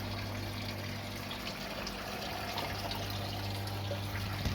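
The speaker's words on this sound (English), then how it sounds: "running the pump there" A RIMS home-brewing pump circulates mash water for a Belgian wit, giving a steady low hum with a constant trickle of water running beneath it throughout.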